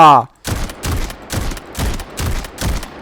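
M1014 shotgun firing rapidly in the video game Delta Force: six loud, evenly spaced blasts about half a second apart, each with a short booming tail.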